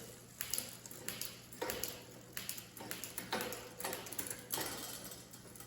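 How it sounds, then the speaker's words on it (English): Rhythmic light scraping and ticking from a 2001 Specialized RockHopper mountain bike drivetrain, a repeating chain rub from cross-chaining with each pedal turn, close and fairly quiet, no voices. "this thing's a little cross chain, so there's a little bit of rubbing up here"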